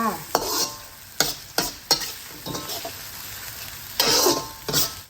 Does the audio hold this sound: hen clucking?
no